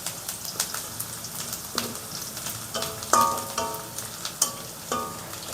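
Garlic sautéing in a pan for vegetable fried rice, a steady crackling sizzle broken by several sharp clinks and scrapes of a spoon stirring against the pan, close and alone without talk.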